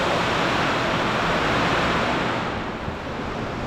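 A dense, continuous roar of strong wind and heavy rain from Typhoon Uwan, heard from inside a house, loud and unbroken, easing slightly toward the end.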